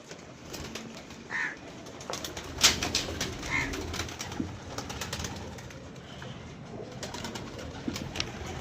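Pigeons in a loft setting, with soft cooing and scattered wing flaps and rustles, fairly faint against a steady background hiss.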